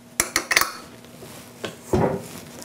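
Flour being mixed into cookie dough for chocolate mint pinwheels in a mixing bowl: a quick series of sharp utensil clinks against the bowl, then a pause and a duller scrape, close and clear.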